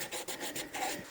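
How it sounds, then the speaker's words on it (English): A foam sanding block worked by hand over a 2005 Jeep Grand Cherokee front bumper, making a quick run of close, rhythmic rasping strokes with no talk. "it's been prepped with a medium foam sanding block"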